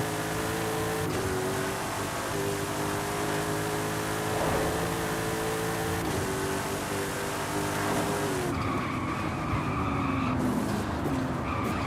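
A car launches with tire spin in the Forza Horizon 5 racing game, its engine revving hard under steady tire squeal that runs continuously, loud and up close. A sharp shift in tone comes late, with no speech.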